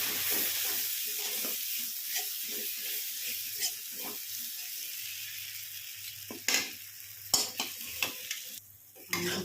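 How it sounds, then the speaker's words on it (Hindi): Masala roasting in a pan with a spoonful of homemade cream for dhaba-style dum aloo, a steady hissing sizzle under frequent short stirring scrapes, growing louder with a few sharp clanks near the end. "इनको चलाते हुए भूनेंगे अच्छे से।"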